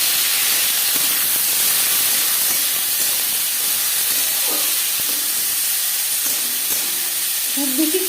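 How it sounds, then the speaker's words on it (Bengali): Tomatoes hit hot oil with toasted whole cumin and dried red chilli for a vegetarian matar dal, giving a steady, loud hissing sizzle that continues without a break and has no voices over it. "গোটা জিরে জিরে শুকনো লঙ্কা ভেজে নেওয়ার পর দিয়ে দেবো টমেটো"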